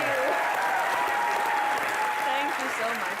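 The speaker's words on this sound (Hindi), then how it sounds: "एक बार जोरदार तालियां इलियाना के लिए।" A television comedy show's studio audience gives a loud, sustained round of applause that holds at steady volume for about three seconds, with faint voices mixed in under the clapping.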